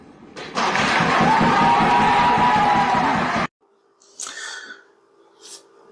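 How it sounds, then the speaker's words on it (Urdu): A hall audience bursts into loud, dense applause and cheering for a death sentence verdict against Sheikh Hasina, sustained for about three seconds before cutting off abruptly, followed by a few faint, scattered voices. "تالیوں سے خوشی سے گونج اٹھا"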